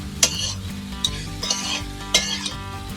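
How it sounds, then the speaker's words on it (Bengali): Amla frying lightly in a pan with spices, a steady soft sizzle broken by several sharp stirring scrapes and taps of a spoon, close and moderately loud, with no talking. "ওখানে আমলকিটা হালকা ভাজা হতে থাক"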